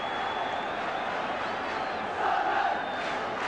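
A football crowd of nearly 32,000 at Roker Park rumbles in a continuous distant roar, swelling briefly midway, heard as a broadcast backdrop with a faint high whistle tone running through it.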